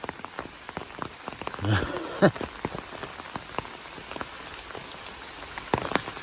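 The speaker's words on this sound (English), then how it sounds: "The start of an all-day rain." Rain patters on a surface on the Appalachian Trail, with scattered close drops and a steady hiss, plus a few sharper knocks partway through.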